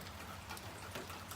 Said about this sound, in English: And it's raining outside too.